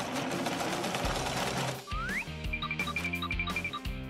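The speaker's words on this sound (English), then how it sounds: "Sew the details!" A sewing machine stitches fabric details for a doll couch, its rhythmic mechanical pulsing running steadily beneath upbeat background music with whistle-like tones.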